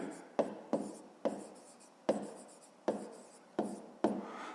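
Handwriting on paper with a pen during a fifth-grade math exercise, about seven quick strokes in a steady uneven rhythm, each a crisp tap fading into light scratching, close and soft with no voice.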